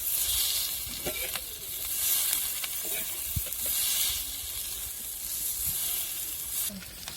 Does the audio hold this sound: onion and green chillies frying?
yes